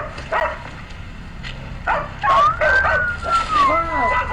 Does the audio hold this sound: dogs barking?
yes